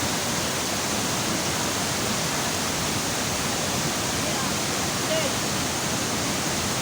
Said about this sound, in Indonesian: Kita lihat betapa indahnya air mengalir dari atas tanpa henti, putih bagaikan salju.